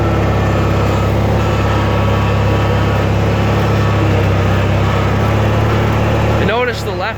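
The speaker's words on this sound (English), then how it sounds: "Just like pretty much all opposed twins I've ever worked on, it always starts easy, runs really solid." A Dixon ZTR Ram 44 hydrostatic zero turn mower with a flathead opposed twin engine runs steadily and loudly at a solid idle close by, then the tone shifts briefly near the end.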